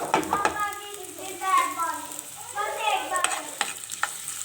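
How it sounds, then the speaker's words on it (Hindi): A small onion frying lightly in oil for chicken potato cutlets, a steady close sizzle with stirring scrapes and spoon clicks throughout, with a voice speaking over parts of it. "एक छोटे साइज़ का प्याज है जिसको हमने हल्का सा फ्राई करना"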